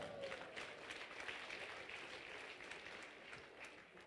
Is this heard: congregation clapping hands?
yes